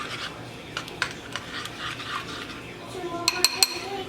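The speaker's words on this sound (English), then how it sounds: "I'm just going to mix it so it's not like lumpy." Spoon stirring food in a bowl while cooking a meal, a soft scraping and rubbing with a few sharper clinks of metal against the dish near the end, close and fairly quiet.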